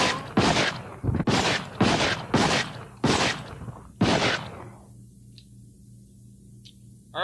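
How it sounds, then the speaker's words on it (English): Nail gun in Resident Evil Outbreak fired at a zombie, six loud, sharp shots in an irregular rhythm over about four seconds, followed by a quiet tail with faint low hum. "let's go ahead and quickly test the nail gun on a zombie"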